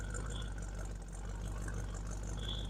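A warmed-up car engine idles steadily after running for several minutes, giving a low, even hum with faint whirring overtones and no speech.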